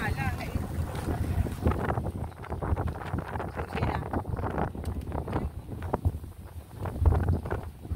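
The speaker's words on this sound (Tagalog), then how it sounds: "Malakas po yung hangin." Strong, gusty wind rumbles and buffets the microphone nonstop at a lakeshore in San Benito, with faint voices now and then underneath.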